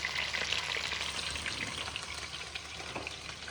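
Chicken pieces browning in a hot pan give a steady, close sizzling and crackling, with faint stirring and no talk.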